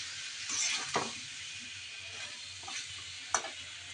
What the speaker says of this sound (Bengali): আর এদিকে লাউ দিয়ে নেড়ে চেড়ে নিচ্ছি।